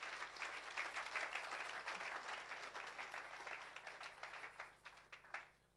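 A congregation at a church service claps in praise to God, a dense, steady wash of many hands that stays loud, then thins into scattered claps toward the end.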